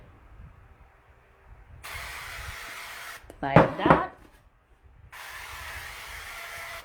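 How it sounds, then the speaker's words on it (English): Canola oil non-stick cooking spray hisses into baking pans in two bursts, each lasting about a second and a half, with a short spoken phrase between them. "This is canola oil, non-stick cooking spray. So I'll just spray inside"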